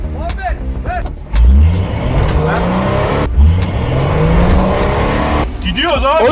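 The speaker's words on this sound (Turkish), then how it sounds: "Arkadaşlar şimdi Ford Ranger'ı narkozla çekiyoruz." A Ford Ranger's engine revs hard while it is towed off-road by another Ford Ranger, surging in loud, rising bursts with heavy rumbling as people talk excitedly close by.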